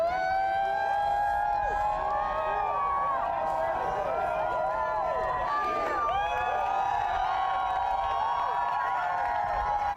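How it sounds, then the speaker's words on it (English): Extinction Rebellion climate protesters cheer and shout outdoors on a blocked viaduct as members are arrested, with a wailing police siren rising and falling over the crowd and voices mixed in throughout. "You could hear those fellow protesters cheering as members of the group Extinction Rebellion were led away in handcuffs by police."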